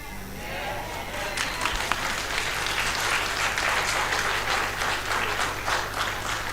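A church audience at a campaign service applauds Kimberly with sustained, dense clapping that swells and stays strong, a low hum running underneath and voices mixed into the crowd noise.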